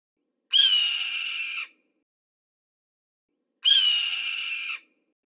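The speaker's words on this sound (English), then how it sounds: "And this is an example of a red-tailed hawk." A red-tailed hawk gives two long, harsh descending screams, each about a second long and spaced a few seconds apart, loud and clear against silence.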